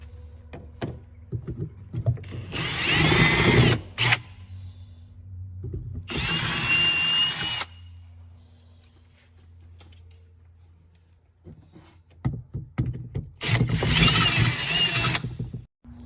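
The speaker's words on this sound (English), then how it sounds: "Use a 1/4 inch and drill through the floorboard." A power drill with a 1/4 inch bit whines in three separate bursts of a second or two each, drilling through a car floorboard, with quiet handling clatter in the gaps between them.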